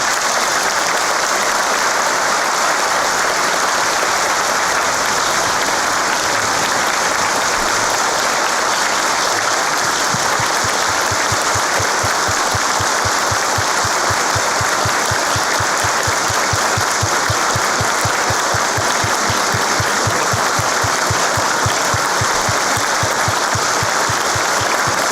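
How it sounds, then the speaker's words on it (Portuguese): A lecture audience gives a long, warm round of applause for a general, dense continuous clapping that holds steady for about twenty-five seconds and settles into a more rhythmic, unified beat in the second half. "uma calorosa salva de palmas para o nosso general"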